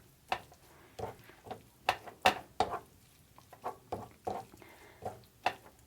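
A spoon scrapes and taps in a pot as cheese is stirred into courgette pizza sauce, a quiet, irregular series of knocks and soft scrapes close by.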